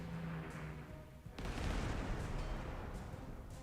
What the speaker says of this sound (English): Enemy forts are bombarding us.